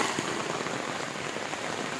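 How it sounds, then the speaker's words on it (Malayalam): Summer rain falls steadily at night, a dense even patter of drops on surfaces that stays constant and fairly close, with no voices. "മഴ കേട്ടോ"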